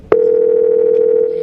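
A FaceTime call rings on a phone: a short click, then a single loud, steady electronic tone held for over a second.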